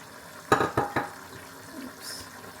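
Carrots drop into a pot of boiling meat with three quick, close clunks in a row, then a quiet, low simmer.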